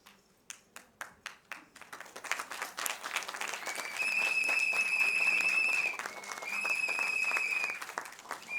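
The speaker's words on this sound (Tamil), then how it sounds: "கைத்தட்டல் இன்னும் பலமா இருக்கலாம்னு நினைக்கிறேன்" An award ceremony audience breaks into applause, starting with a few separate, slow claps that quickly swell into steady, full clapping from a crowd, with a brief dip before it picks up again.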